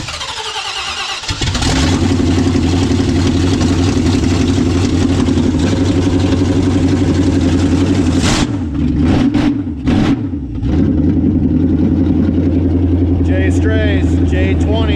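Jeep J20 with a V8 fitted with headers and a full exhaust, running with a deep, loud steady rumble for most of the stretch, a brief dip and blip near the end, then settling back to a strong idle-like drone.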